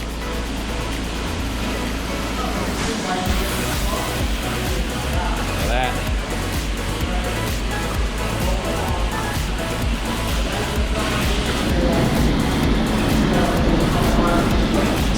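A spinner carpet-cleaning machine running over filthy carpet, a loud continuous whirring drone that holds steady throughout, with someone talking over it.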